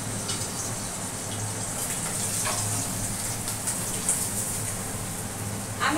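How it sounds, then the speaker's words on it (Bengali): Pabda fish fry in hot oil, crackling and spattering in a dense, steady hiss with scattered sharper pops close by throughout. "মাছগুলো ভাজতে থাকি।"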